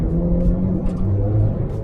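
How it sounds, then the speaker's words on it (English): A 2012 Ferrari 458 Italia V8 drones steadily from inside the cabin while driving, a low continuous rumble with a faint steady tone and no talk. "Today we're going to be doing a POV drive on this 2012 Ferrari 458 Italia."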